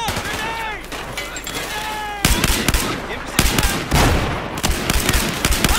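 Heavy gunfire in a Battlefield 4 battle comes as rapid, loud bursts of shots. Sharp cracks stack into dense volleys, and the firing grows more intense in the second half, with a voice briefly heard early on.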